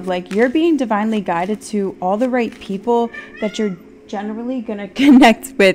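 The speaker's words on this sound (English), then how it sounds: "If you just heard that was my cat" A pet cat meows a few times close to the microphone, its calls cutting in over and around a woman's steady speech.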